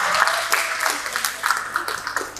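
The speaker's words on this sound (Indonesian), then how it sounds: "boleh tepuk tangan buat kita semua" An audience at an Aceh cultural heritage gathering applauding, a brief burst of steady clapping from a modest crowd, heard close and without talk.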